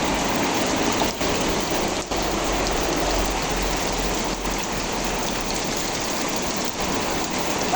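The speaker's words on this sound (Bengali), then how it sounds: "আরে বৃষ্টি।" Heavy rain pours down during a storm, a dense, steady roar of water close by that hardly changes over several seconds, with no voices.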